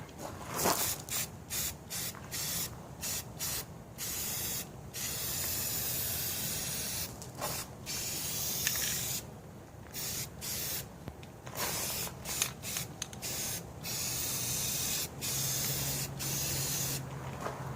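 A can of white Rust-Oleum spray paint hisses in repeated bursts of one to two seconds onto wheels for a 1975 Vanguard Citicar, with short pauses between sprays.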